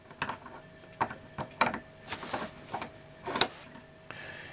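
Milling a quick-change tool post on a small Unimat lathe, a series of sharp intermittent mechanical clicks and grinding bursts, irregular and close, with a faint steady whine.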